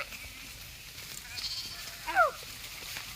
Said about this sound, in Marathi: आपण फायनली मस्त तुरीच्या शेतामध्ये मस्त मेंढ्या घालून दिल्यात मित्रांनो